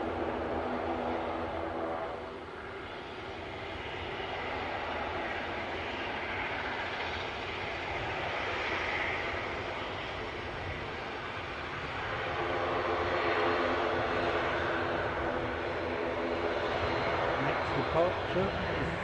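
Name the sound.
Loganair ATR aircraft engine at Aberdeen airport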